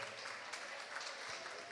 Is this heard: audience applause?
yes